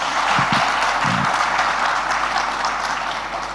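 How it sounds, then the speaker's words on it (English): Summit audience applauding after a talk, a dense steady patter of clapping from a crowd that continues throughout, with a few louder thumps near the start. "I paused to let them clap properly."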